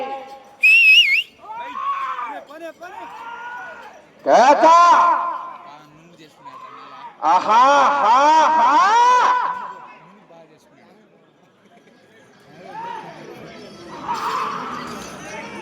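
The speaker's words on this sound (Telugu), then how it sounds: "కేకలు విజిల్స్." Crowd at a bullock cart race in Pottapi village, Kadapa district, letting out sharp whistles and loud shouting bursts, alternating with short lulls; voices rise and fall in waves across the gathering.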